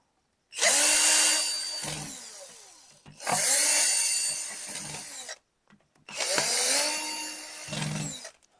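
A power tool tightens a nut and bolt on an EN-800 rechargeable torch light in three loud, close whirring bursts separated by short pauses, with no talking.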